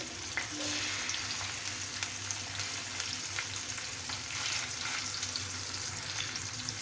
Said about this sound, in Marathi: एक बारीक गॅसवरती साधारण पाच मिनिट मी याची एक साईड फ्राय करून घेणार आहे